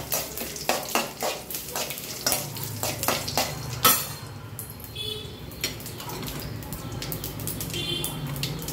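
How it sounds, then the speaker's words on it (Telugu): Chopped garlic sizzles steadily in oil in a pan, joined by clinks and scrapes of a spoon stirring against the metal, close and continuous, with no voices heard. "కొంచెం వెల్లుల్లి ఫ్రై అయినాక 2 ఎండుమిర్చి వేసుకుందామండి కారానికి"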